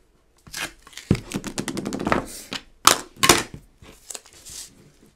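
A strip of 1.5 inch tape is laid down and pressed onto chipboard in a craft project, making close crackling, tapping and peeling bursts separated by brief quiet gaps.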